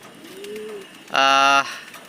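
A racing pigeon gives a soft low coo, then a louder, harsher burst of cooing about half a second long, heard close up against a quiet background.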